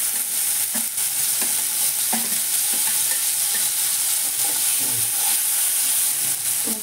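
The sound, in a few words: spices and tomato frying and stirred in a pan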